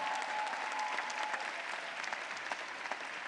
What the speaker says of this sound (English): Yes, they deserve a round of applause.